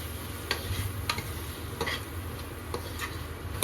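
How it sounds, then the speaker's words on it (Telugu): Curry being stirred in a pot after garam masala goes in, with faint scraping strokes at a slow, irregular rhythm over a low steady simmer. "గరం మసాలా వేసి ఒకసారి మళ్ళీ కలుపుకోవాలి."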